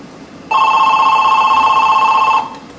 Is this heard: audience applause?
no